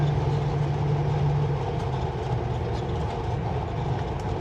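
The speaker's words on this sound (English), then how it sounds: "every time the engine brakes comes on, I kind of hear like a spooling up, like, you know, when a jet turbine" A truck engine brake drones heavily and continuously up close, with a low, steady rumble and a faint whining tone that fades partway through.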